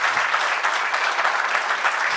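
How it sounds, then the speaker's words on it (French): Sustained applause from an audience at a regional crafts awards ceremony for food trades, dense and steady throughout with no talk over it. "vous pouvez applaudir Nicolas si vous voulez pour le soutenir"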